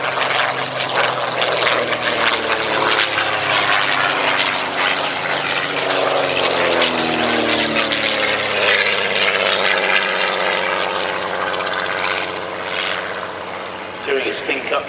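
A de Havilland DH88 Comet, a record-breaking 1930s light racing aircraft, flies past at Old Warden, its propeller engine droning loudly and steadily throughout with a slowly shifting pitch, while a commentator talks over it.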